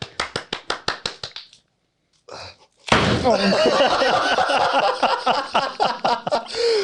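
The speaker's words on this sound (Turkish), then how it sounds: "o zaman Ali bir hoş geldin alkışı mı?" A small group gives a welcome round at a casual gathering. About ten sharp, evenly spaced claps are followed by a short pause and a brief noise, then close, loud clapping mixed with laughter and overlapping voices.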